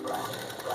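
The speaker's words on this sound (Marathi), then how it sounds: "आता आपण हे करून घेऊ, शिलाई मारून घेऊ" A sewing machine stitching fabric after a needle change, a fast continuous whirring run of stitches, close and steady for under a second.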